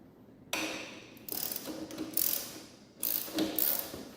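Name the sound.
crescent wrench removing Harley FatBoy seat bolt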